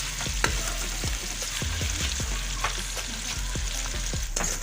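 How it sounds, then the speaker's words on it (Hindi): Onions with a little salt frying in a pan while cooking a potato and chicken liver dish: steady close sizzling hiss with repeated sharp clicks and taps of stirring scattered throughout, and no speech. "प्याज हमारा फ्राई हो गया,"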